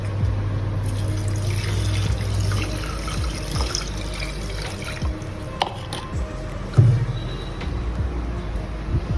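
Coconut milk pours into a pan of sautéed onions and ginger, a steady wet trickle and liquid rush under a low sizzle, with a few soft clinks of utensils near the middle.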